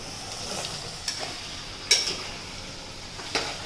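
Vegetables and gram flour balls for undhiyu being stirred in a pot, with soft scraping and a few sharp spoon clinks against the metal under a faint steady sizzle; no one talks.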